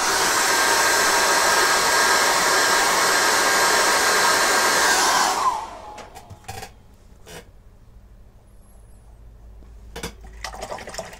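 A hair dryer blows loudly and steadily over freshly mixed acrylic paint on a colour chart, then switches off partway through, leaving quiet room sounds and a few faint knocks.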